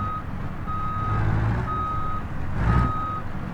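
Reversing beeps from a truck backing up a trailer pulse at a slow, regular pace over a rumbling diesel engine that swells in places, close and clear with no voices.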